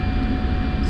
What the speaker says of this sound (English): I'm going to release the wheel brakes, preset to full afterburner